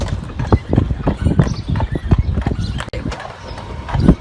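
Horse hooves clip-clop in a steady, close rhythm as a horse pulls an Amish buggy through Amish Country, with faint voices in the background.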